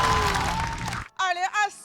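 Audience applause at a stand-up comedy show, a dense burst of clapping that fills the first second before cutting off, followed by a loud, close voice.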